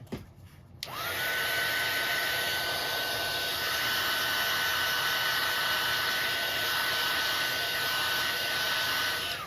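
A heat tool blasts hot air onto paint in a small scrap craft project, starting abruptly after a moment of quiet and then holding a loud, steady whoosh with a faint whine for the rest of the clip.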